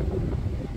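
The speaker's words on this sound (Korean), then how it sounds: "오늘 바람 많이 부네요." Strong wind roars over the microphone as windsurfers race across open water, a steady, close, low rumbling gust without pauses and with no voices.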